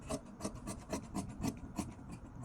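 Scissors or shears cut fabric for a sweater sleeve in quick rhythmic strokes, about ten close, soft rasping snips in a row with no talk.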